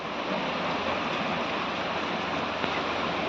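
Dense, even wash of rain noise, steady and close with no pauses, resembling rushing water.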